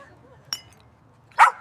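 A dog gives one short, sharp bark near the end, preceded by a faint clink, against a quiet background.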